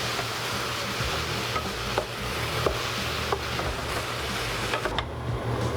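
Pork stew with julienned tomatoes cooks in a pot, a steady close sizzle and bubbling simmer running throughout, with occasional faint clinks and stirring scrapes.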